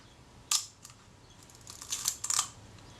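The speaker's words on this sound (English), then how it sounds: "So I press the shutter release gently, the shutter is fired" A Kodak Retina IIIC camera shutter fires with a sharp click, followed about a second and a half later by a cluster of quicker mechanical clicks and whirs, close and isolated.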